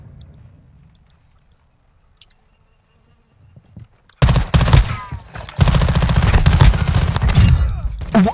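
Gunfire in Call of Duty: Modern Warfare 2: after a few quiet seconds, loud, dense automatic bursts erupt and keep going, close and overlapping with impact noises.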